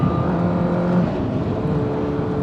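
A motorcycle engine pulls hard as the bike accelerates up to about 50, a loud steady drone rising gently in pitch, close to the rider with no talk.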